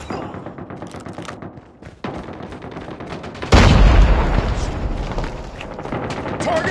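A frag grenade explodes in Call of Duty Mobile during close-quarters gunplay in a killhouse, a sudden loud, deep boom hitting midway through rapid gunfire and lingering as a rumbling tail.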